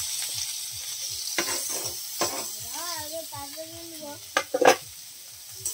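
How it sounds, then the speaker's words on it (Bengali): Masala frying in a pan while being stirred, a continuous sizzle with rhythmic scraping strokes, a few louder clatters near the end, and brief speech and tonal voices over it. "দিয়ে একটু কষে নেবে ভালো করে।"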